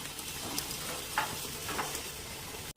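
Yogurt poured into a hot pan holding fresh whole black pepper for chicken majboos sets off a soft, continuous sizzle with faint stirring clicks, ending on an abrupt cut.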